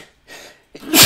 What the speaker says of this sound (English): Fucking sneezing fit.